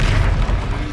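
A Confringo blasting spell explodes in Hogwarts Legacy, a single loud, deep, rumbling boom that carries through the whole short moment with no voices.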